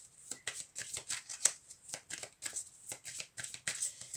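Oracle cards shuffled and drawn by hand, a steady run of close, crisp riffling flutters repeating about every quarter second with no talking.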